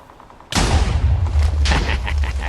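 A sudden heavy boom of Minecraft cannon fire opens into a sustained, loud rumbling roar with repeated blasts layered on top.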